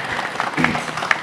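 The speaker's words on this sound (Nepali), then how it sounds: "यसको लागि हामी आफैले एकचोटि ताली बजाउँछ" A crowd at a live dohori song event breaks into brief applause, a short burst of clapping with a faint voice mixed in.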